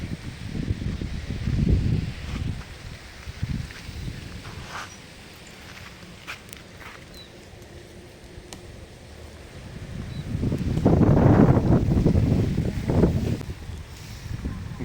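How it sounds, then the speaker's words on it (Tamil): Gusty wind buffets the microphone, rumbling loudly, easing off in the middle, then surging again, with faint rustling underneath. "காற்று தான் அடிக்குது"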